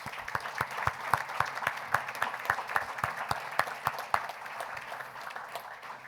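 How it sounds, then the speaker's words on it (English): An audience at a mayor's community night-out meeting gives a round of applause, a steady wash of clapping with distinct individual claps standing out, lasting about six seconds before tapering off. "I think they get a big round of applause for their efforts."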